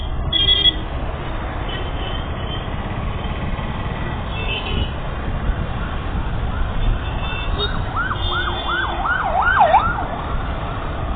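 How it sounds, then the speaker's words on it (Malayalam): Ambulance siren wailing on a city road in Kollam, a wavering tone that grows louder and closer toward the end over steady traffic rumble heard from inside a moving vehicle. "ആംബുലൻസുകൾ ഇങ്ങനെ ചീറിപ്പായാണ്."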